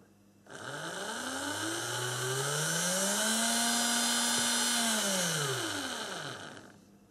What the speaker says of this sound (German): Ich drehe den Motor mal kurz hoch.